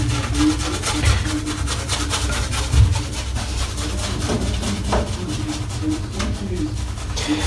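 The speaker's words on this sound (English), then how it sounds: "I'm using this on my head right now, and the scrub from this brush is absolutely amazing." A Semogue OC 2012 boar shaving brush scrubbed over a freshly shaved head gives close, rough bristle rubbing in repeated short back-and-forth strokes, with occasional louder scratchy bursts.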